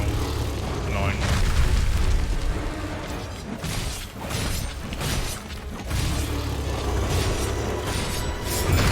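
A bomb explodes in Monster Hunter World: Iceborne with a deep, rumbling boom amid continuous heavy combat noise, while a voice talks over the din.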